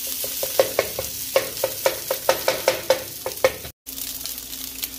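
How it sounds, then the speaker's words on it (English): Rice for arroz mamposteao stirred in a hot pan, with repeated scraping strokes of a spoon in a steady rhythm over a constant close sizzle, broken by a brief dropout near the end. "make sure you stir it all in there"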